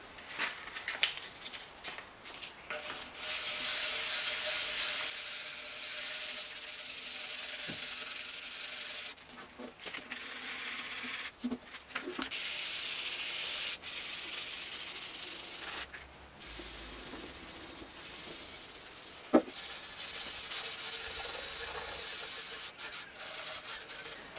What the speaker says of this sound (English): I'll just rub that all over with Scotch-Brite